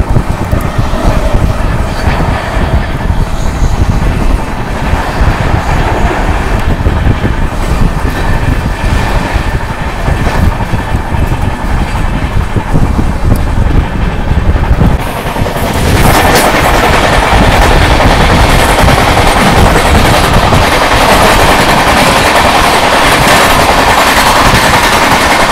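Amrit Bharat Express train running fast, a loud, continuous rumble and rapid rattling of wheels on track that shifts to a brighter, rushing roar about two thirds of the way through, with no talking.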